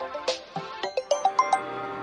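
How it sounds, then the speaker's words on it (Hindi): A phone rings in a Hindi-dubbed South Indian movie scene: a short melodic ringtone of bright, rising electronic notes plays clearly, with no talk over it. "बीच बीच में ये फोन आते रहते हैं।"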